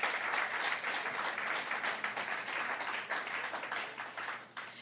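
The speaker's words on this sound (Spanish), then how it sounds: "dale fuerte ese aplauso al Señor" Sustained applause from a church congregation during an evening service of anointing and miracles, dense steady clapping throughout at an even level with no voices over it.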